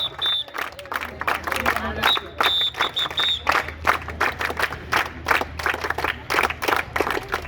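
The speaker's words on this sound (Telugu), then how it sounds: "అందరి పిల్లలు హృదయపూర్వక చప్పట్లతో వేదిక మీదకి స్వాగతం" Schoolchildren at a school farewell function applaud to welcome a guest onto the stage, a dense crowd of clapping hands that rises and falls in bursts, with some scattered shouts and cheers mixed in.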